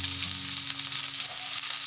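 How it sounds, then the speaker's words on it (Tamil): Onions fry in hot oil with mustard seeds, urad dal, curry leaves and garlic, a brief, steady, close sizzle with a soft hum underneath and no talking. "இது எல்லாத்தையும் நல்லா வதக்கணும்"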